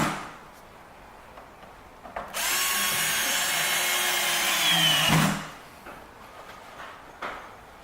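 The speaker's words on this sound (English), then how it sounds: "Now drill in 1 5/8 inch galvanized screws to press the door together." A power drill drives a 1 5/8 inch galvanized screw into a door during door knob repair, one loud whirring burst of about three seconds, with quieter handling noises before and after.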